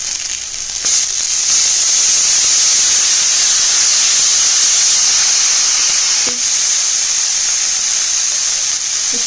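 Ginger garlic paste, two spoonfuls, hitting hot oil in a pan for kadai mushroom, giving a loud steady sizzling hiss that holds for the full stretch with a couple of faint clinks.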